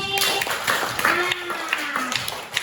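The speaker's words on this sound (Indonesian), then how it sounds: "beri tepuk tangan untuk Rani" Scattered clapping for Rani, a student who has just read a fable aloud in class, rises under continuous chatter and voices, with sharp taps spread across the short stretch.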